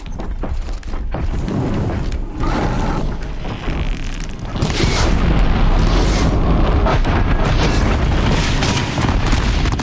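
New bomb-type explosions in a fight with a Scorcher machine in Horizon Zero Dawn: The Frozen Wilds, heavy booms and rumbling that build into a loud, sustained roar of blasts from about five seconds onward.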